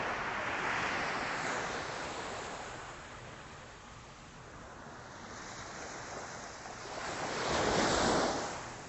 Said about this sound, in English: Low tide, but the waves are striking with a little more integrity and force.